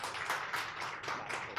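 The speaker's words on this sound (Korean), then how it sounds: "박수 하겠습니다" Applause from a church congregation welcoming a pastor to the pulpit, a brief dense burst of many hands clapping at moderate distance with no talk over it.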